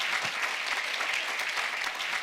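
Congregation clapping steadily at a church pastors' seminary service, a dense, even wash of applause close by that holds at the same level for the whole stretch, with no talk over it.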